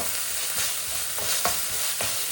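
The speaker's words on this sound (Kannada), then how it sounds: "ಇಲ್ಲಿ ಇಷ್ಟೇ ಜಿಂಜರ್ ಗಾರ್ಲಿಕ್ ಪೇಸ್ಟ್ ಹಾಕ್ಕೊಂಡೆ. ಏನಂದರೆ ನೀವು ಕರೆಕ್ಟಾಗಿ ಸ್ವಲ್ಪ ಫ್ರೈ ಮಾಡ್ಕೋಬೇಕು" Ginger garlic paste frying in a pan for a prawn and egg stir-fry, a steady close sizzle broken by several sharp scraping strokes of a spoon stirring, with no talk.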